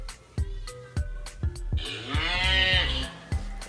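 A cartoon cow mooing from the Letters Alive Zoo Crew alphabet app, one long drawn-out moo rising clearly over a rhythm of soft repeated thumps, close and fairly loud.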